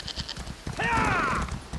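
A sheep bleats once in The Elder Scrolls Online, a wavering mid-pitched cry lasting under a second that rises clearly over steady hoof clip-clop from a ridden horse.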